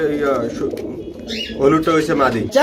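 Red check racing pigeons coo in low, rolling bursts close by, with someone talking over them throughout.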